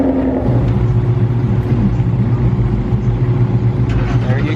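A bagged Ford Mustang driving on wet roads, a steady low engine rumble and road noise heard from inside, continuous and fairly loud without variation.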